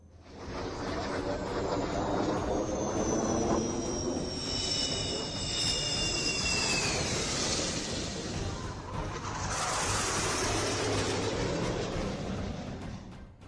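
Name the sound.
Sukhoi and Jaguar fighter jets landing on a highway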